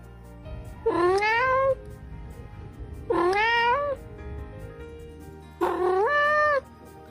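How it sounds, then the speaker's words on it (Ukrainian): A cat meows three times, each a drawn-out, rising-falling call, with short pauses between them and no talking. "Так, котик нявкає."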